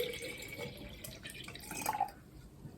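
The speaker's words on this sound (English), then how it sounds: "We add the tap water to that jar" Tap water trickles and splashes into a clear glass jar, a faint, close pouring with a rising tone and a few drips.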